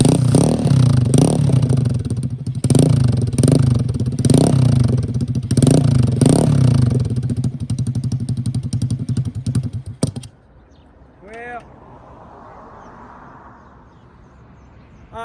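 A chopped Honda CT70 motorcycle's small engine runs close and loud with a pulsing, throbbing idle and a few rev swells for about ten seconds, then shuts off abruptly, leaving a quiet outdoor background with a faint chirp.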